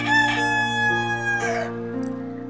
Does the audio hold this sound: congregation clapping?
no